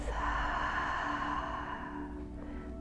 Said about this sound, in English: Take a deep inhale, cleansing exhale through the mouth